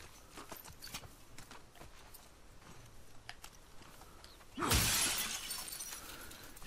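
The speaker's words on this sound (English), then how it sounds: "She loves smashing them windows." A glass window smashes in The Last of Us Part II, Seattle, one sharp, loud burst of shattering glass following some quiet footsteps and faint shuffling movement.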